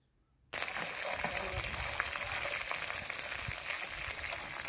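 Onion, green chili and curry leaves sautéing in a pan for kara kuzhi paniyaram, a steady bright sizzle that starts abruptly after a brief silence and continues evenly and close, with a soft voice beneath.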